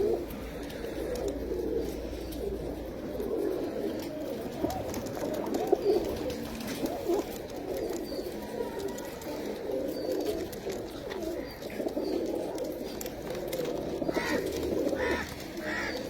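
Pigeons coo softly and repeatedly nearby, a low murmuring warble that carries on throughout with faint background noise.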